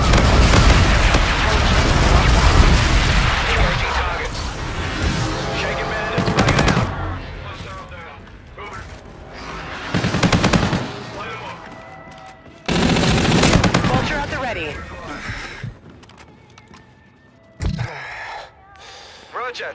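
Gunfire and explosions from Call of Duty: Infinite Warfare in a capture-the-flag match against bots, with rapid automatic bursts, loud booming blasts and in-game radio voices, arriving in dense volleys separated by brief quieter gaps.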